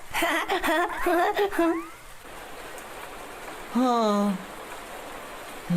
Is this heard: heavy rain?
yes